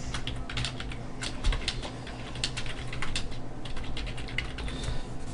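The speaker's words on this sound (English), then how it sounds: "double click on this text and start typing" Rapid, steady typing on a computer keyboard, dense clattering keystrokes close by with no voices, continuing throughout.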